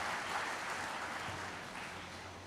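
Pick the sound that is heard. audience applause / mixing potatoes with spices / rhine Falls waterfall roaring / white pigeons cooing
audience applause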